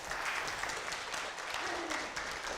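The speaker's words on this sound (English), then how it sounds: "Yeah, we can clap." A church congregation claps together during a Sunday morning service, a steady, moderately distant patter of many hands filling the room for a couple of seconds with no voices on top.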